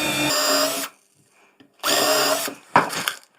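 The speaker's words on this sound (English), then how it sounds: "I'm going to countersink a few screws in, just to reinforce everything." A power drill drives and countersinks roughly 30mm screws into a wooden bird box, giving two long loud whirring bursts separated by a pause, then a short final spin, close and alone.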